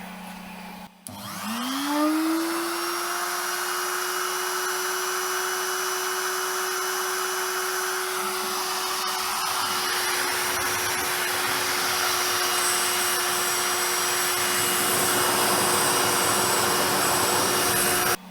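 A CNC machine spindle whines up to a steady high pitch and keeps running while milling a circuit board outline, with grinding cutting noise underneath that shifts in texture partway through.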